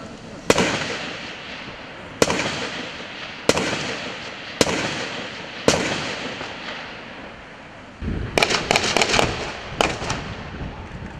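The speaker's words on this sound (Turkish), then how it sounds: "Teröristlere Kılıçdaroğlu'nun korumaları da karşılık verdi." Bodyguards return fire during an attack on a CHP convoy in Artvin. Loud, sharp reports ring out every couple of seconds, each trailing off in echo, before a faster cluster of several close shots near the end.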